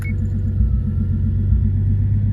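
A car engine runs loudly and steadily close by, a deep rumbling idle right after a brief start with a newly fitted starter at the beginning.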